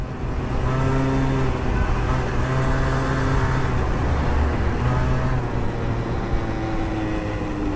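A motorcycle on a test ride through town runs with a loud, steady engine drone and slight pitch shifts as it rolls and revs, close up and continuous, with no voices.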